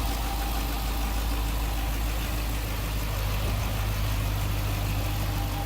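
A 2013 Dodge Challenger SRT8 with its 6.4 liter, 392 cubic inch Hemi V8 idling, a steady, close, low throbbing rumble with an even, unchanging loudness throughout.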